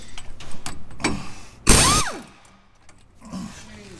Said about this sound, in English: let's see if the fucking half-inch gun will get it off